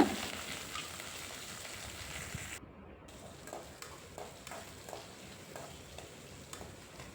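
Sliced shallots and dried red chillies sauté in a pan for chicken chinthamani, giving a soft, steady sizzle with light stirring taps, quiet and close with no talking.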